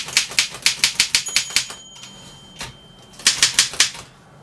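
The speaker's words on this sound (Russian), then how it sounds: "Литера просто ударяет по бумаге." A 1936 Ideal typewriter types in quick rhythmic bursts of sharp key strikes on paper, with a short pause in the middle before another rapid run of clacks, close and loud with no talking.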